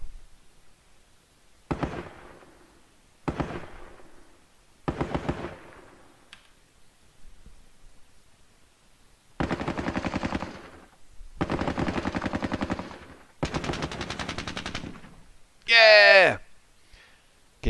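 Bursts of gunfire and explosions from the Squad Battles Soviet-Afghan War game arrive in sharp clustered volleys separated by pauses, with a longer rattling burst and a whistling blast near the end; someone talks intermittently.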